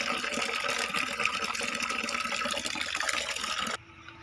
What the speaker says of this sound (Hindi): तो मैंने पानी भर लिया है